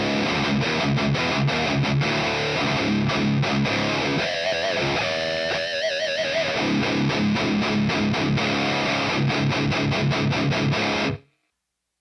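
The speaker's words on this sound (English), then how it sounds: "I'm playing through my EVH Stealth 50 watt" Distorted electric guitar played through an EVH Stealth 50-watt tube amp with a little reverb, chunky palm-muted riffing with sustained chords, loud and continuous before stopping abruptly at the end.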